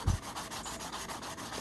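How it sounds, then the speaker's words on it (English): Sandpaper rubs across a tumbler with light pressure during level-sanding, giving a steady, even scratchy hiss with faint repeated strokes that runs close and alone throughout. "you have to let your sandpaper do the work"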